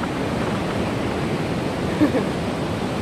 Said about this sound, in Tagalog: Nakakatakot talaga yung mga alon, no?